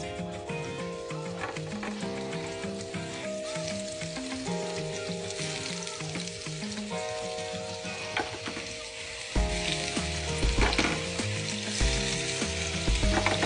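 King oyster mushroom vegan scallops sizzle in oil in a non-stick pan, a steady close crackle that swells louder as the pieces go in, with light clicking and clattering over background music.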